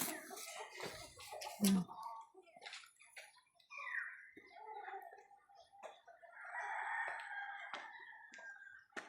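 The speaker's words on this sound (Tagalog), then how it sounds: "Ganyan yung mga manok." Chickens on a farm cluck and call in scattered bursts, with a drawn-out crow-like call rising in the middle, fairly close over quiet background noise.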